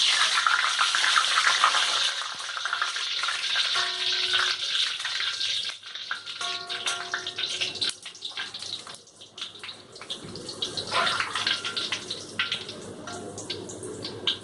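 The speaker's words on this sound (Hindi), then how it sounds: "अब हम पूरी को फ्राई करेंगे।" Rolled puri frying in hot oil, a continuous close bubbling sizzle that shifts in intensity as the dough puffs and is turned, with no talking.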